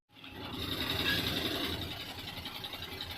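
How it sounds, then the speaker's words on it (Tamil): Vehicle engine just started and settling into an idle while vacuum builds, a steady close rumble with a faint rapid ticking texture, rising quickly from silence and holding level. "வண்டி ஸ்டார்ட் பண்ணியாச்சு. வேக்கியம் ஏறிட்டு இருக்குது."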